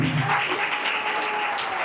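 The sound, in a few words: congregation applause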